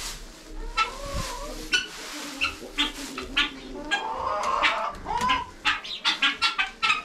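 Chickens clucking and scratching through fresh shredded-paper and straw bedding after corn is scattered; close, irregular clucks and short calls pile up toward the end, with light rustling underneath.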